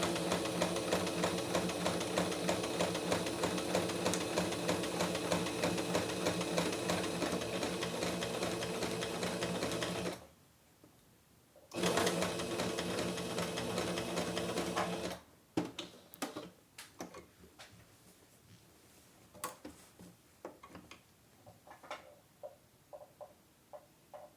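Sewing machine stitching a drawn border outline on a cotton dish towel, running steadily and close for about ten seconds, pausing briefly, running again, then stopping for scattered clicks and handling noises.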